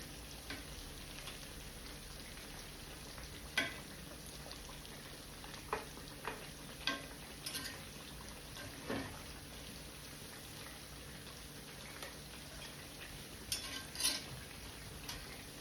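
Rainbow trout frying in oil, a quiet, steady crackle with scattered soft pops and spits over several seconds, heard fairly distant with no voices.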